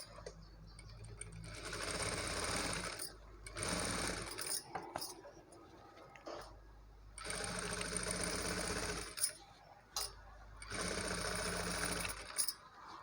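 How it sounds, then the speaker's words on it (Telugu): A sewing machine top-stitches the neck cloth of a maggam work blouse, running in several loud bursts of rapid mechanical whirring separated by short pauses, close up with no one talking. "ఈ నెక్ క్లాత్కి మళ్ళీ ఒక టాప్ స్టిచ్ వేసేయాలండి"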